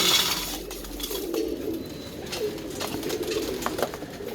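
Pigeons coo softly and intermittently at close range over a steady background hiss, with no one speaking.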